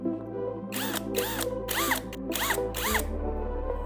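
Power drill boring holes with a 5 mm bit, five short whining bursts in a steady rhythm over a constant motor hum, close and heard alone.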